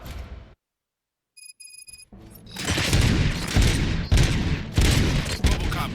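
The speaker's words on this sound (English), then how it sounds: "Gunshots? What's going on?" In the video game RoboCop: Rogue City, after a short silence and a few electronic beeps, loud bursts of rapid gunfire erupt and continue in heavy volleys.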